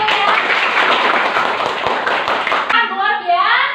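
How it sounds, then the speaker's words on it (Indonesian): Classroom applause from students during a teacher's lesson, a dense burst of clapping for about two and a half seconds that stops abruptly, followed by children's voices talking and answering. "tepuk tangan dulu ya."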